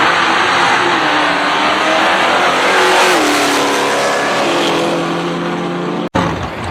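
Audi quattro four-wheel-drive drag car at a no-prep drag strip at Manston, a loud sustained engine roar rising in pitch as it accelerates, then cutting off sharply near the end.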